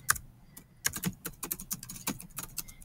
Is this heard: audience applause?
no